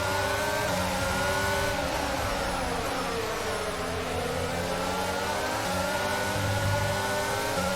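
A pack of Formula 1 cars in F1 22 roars off the grid at the Sao Paulo race start, engines screaming and rising in pitch together, loud and continuous throughout.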